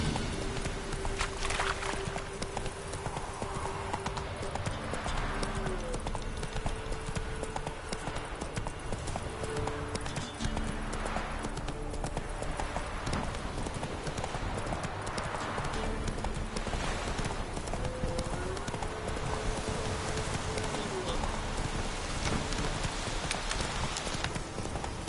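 The horse Roach gallops steadily in The Witcher, its hoofbeats drumming without pause under a continuous game soundtrack, with no talk.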